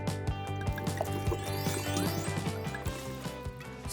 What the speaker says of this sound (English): gonna put in the water